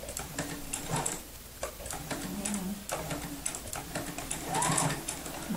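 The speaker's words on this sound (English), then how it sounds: "I'm just going to backstitch here" A sewing machine backstitches a quilt seam in short rhythmic bursts of rapid ticking stitches, close and fairly quiet with brief pauses between runs.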